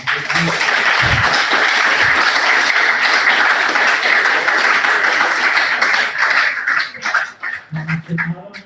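Sustained applause from an audience at a book launch, dense and steady for several seconds before thinning out into scattered claps near the end.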